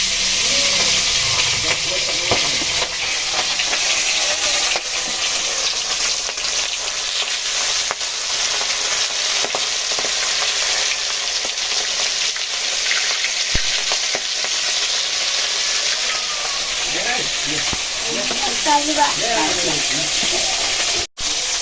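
Pieces of rohu fish sizzle loudly in hot oil in a wok, a dense, continuous frying hiss close up with occasional stirring and spatter noises near the end.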